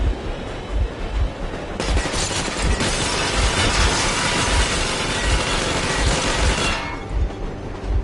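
Sustained burst of machine gun warning fire in the Metro video game, a dense, loud rattle of rapid shots running for several seconds over a steady mechanical rumble, with no talk.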